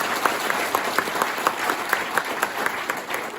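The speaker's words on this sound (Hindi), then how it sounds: "उनके लिए एक बार जोरदार तालियां चाहूंगा" A training-session audience applauds together after a call to honour a mentor, a steady patter of claps with sharper individual hits standing out, moderately close and filling the room without talk.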